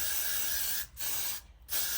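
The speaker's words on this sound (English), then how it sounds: "I'm going to take my Gots to Be Freeze spray. If you know, you know. And I'm going to spray it on my lace." Got2b Freeze hairspray sprayed onto wig lace in three close hissing bursts, each separated by brief pauses.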